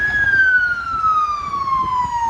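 A fire engine siren wails past on a street in Durres, Albania, a single loud tone sliding steadily downward as it goes by, over traffic rumble.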